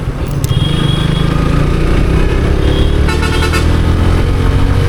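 A motorcycle's engine drones loud and close throughout as it rides on a road during an impromptu street race, with a brief horn toot partway through and no talking.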